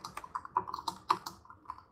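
Keys on a computer keyboard clack in quick, uneven bursts during an online chat, fairly faint and picked up by a nearby microphone, with no talking.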